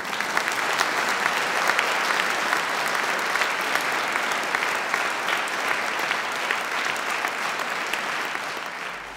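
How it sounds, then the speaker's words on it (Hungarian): Audience applause at a ceremonial opening event, a dense, steady roar of clapping from a large crowd that holds loud for the whole stretch and eases slightly at the very end. "Most lehet tapsolni."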